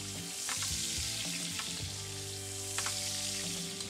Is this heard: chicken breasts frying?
yes